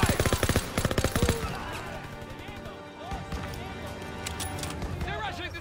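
Rapid machine gun fire in a World War II battle from the Call of Duty WW2 video game, loud and close for the first second and a half, then fading into scattered distant shots amid battle noise and shouted voices.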